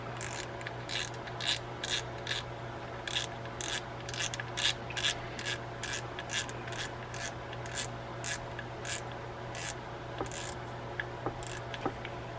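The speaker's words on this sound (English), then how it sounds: "Tighten down our drag, make sure that's working." Rapid, even ratchet clicks come from the drag of a Penn Sargus 4000 spinning fishing reel being tightened during servicing, crisp and close, running steadily for several seconds without any talk.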